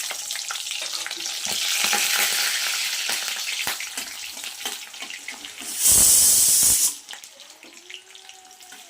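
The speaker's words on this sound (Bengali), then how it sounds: "তেজপাতা দেওয়ার পরপরই আমি পেঁয়াজ কুচি দেব।" Chopped onion dropped into hot oil with bay leaf, giving a loud, close sizzle and frying hiss with stirring clatter, plus a brief harsh rush partway through.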